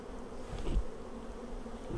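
Honey bees buzz around an opened Flow Hive during a hive split, a close, steady insect hum with individual bees swelling and fading as they fly past, and no voices.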